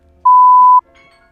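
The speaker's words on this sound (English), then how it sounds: "so that's the alarm" A single steady electronic beep from an oven timer, sounding once for about half a second, clear and loud in a quiet kitchen, with no talking.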